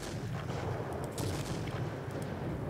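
Heavy cannon fire from a JU 88 aircraft's 37mm or 50mm gun in World of Warplanes, a continuous low booming rumble with repeated thudding shots, fairly faint and steady throughout.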